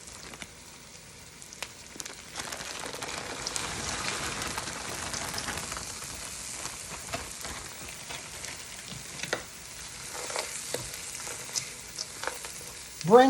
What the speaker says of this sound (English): Saute it up. Mixed vegetables.